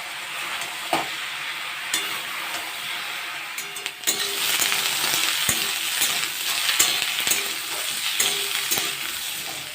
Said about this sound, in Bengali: তার সাথেই আর কি আনাজগুলো ভালো করে ভেজে নিচ্ছি